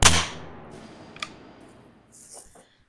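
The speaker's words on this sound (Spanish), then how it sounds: "Entonces, este se llama látigo y suena así." An orchestral slapstick whip percussion instrument cracks with one sharp loud snap that decays quickly, followed by a fainter click and light rustling.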